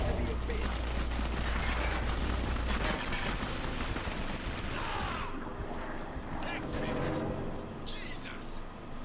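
Grenade blasts and gunfire from the Clive Barker's Jericho video game, a dense roar of explosions and shooting with a heavy low rumble in the first few seconds, then continuing sharp bursts of combat noise.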